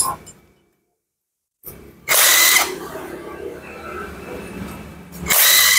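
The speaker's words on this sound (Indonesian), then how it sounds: "buka aja sini, pakai impact aja, pakai impact" An impact driver rattles in two short, loud bursts as it opens a motorcycle fuel-injection throttle body, separated by a pause and lower mechanical noise.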